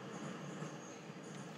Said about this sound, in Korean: 와 기차.